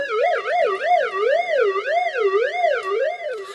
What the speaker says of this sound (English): So now it all sounds like a siren.